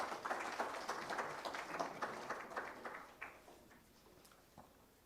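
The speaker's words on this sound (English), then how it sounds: "Please welcome Professor Kharel with a round of applause." Audience applause welcoming the keynote speaker at the inauguration session of a communication conference in Kathmandu: many hands clapping in a quick, dense patter that gradually thins and fades, with a few scattered claps lingering at the end.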